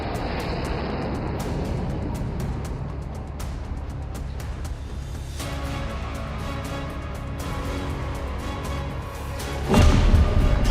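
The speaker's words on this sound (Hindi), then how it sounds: "रनवे से सुखोई 30 MKI की उड़ान।" A Sukhoi Su-30MKI fighter jet takes off from a runway, giving a steady, loud broadband jet roar that holds throughout and swells louder near the end, with some scattered thumps.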